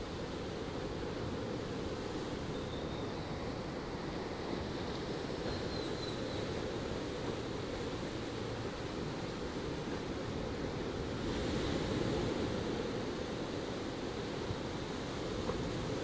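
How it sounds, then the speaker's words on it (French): Ocean waves wash in as a soft, continuous surf hiss, even and distant, swelling slightly near the end with no voices over it. "le bruit des vagues"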